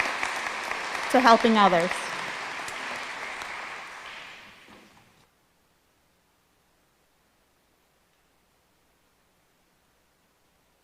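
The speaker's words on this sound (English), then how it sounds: "Could we please have a round of applause for all their efforts, hard work, and their commitment" Applause at a National Honor Society spring induction ceremony, a broad steady wash of clapping under a brief spoken phrase, fading out after about five seconds into silence.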